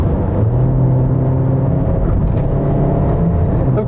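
A 2018 Mitsubishi Eclipse Cross accelerates on a highway, heard from inside the cabin as a steady engine hum and road rumble that builds gradually, with no talking.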